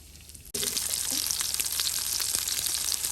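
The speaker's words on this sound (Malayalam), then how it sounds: "ഇത് ഒന്ന് കോക്കനട്ട് ഓയിലിട്ട് ഫ്രൈ ചെയ്തെടുക്കാം" Shrimp dropped into hot coconut oil for a masala shrimp fry bursts into a loud, steady sizzle that carries on with crackling and spattering.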